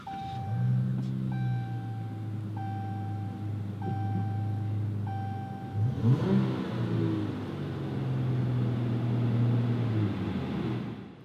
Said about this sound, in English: put your foot on the brake and push this button right here to start it up.